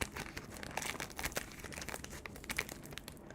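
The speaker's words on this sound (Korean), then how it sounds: "봉지를 바르게 잡고 가위로 윗부분을 잘라주세요." Scissors snip through the top of a plastic instant ramen bag, giving quiet, close crinkling and rustling with small crisp cuts and no talking.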